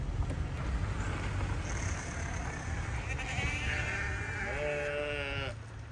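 Sheep bleat at a solar farm, a few calls rising near the end over steady outdoor ambience with low rumble.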